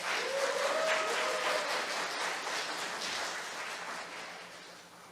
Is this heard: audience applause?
yes